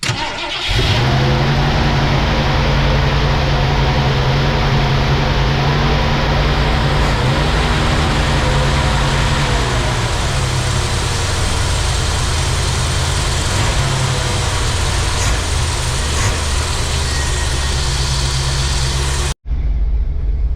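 A car engine fed fresh fuel from a gas can starts and runs steadily at close range, a loud, constant idling roar for nearly the whole stretch before cutting off abruptly at the end, with no talk.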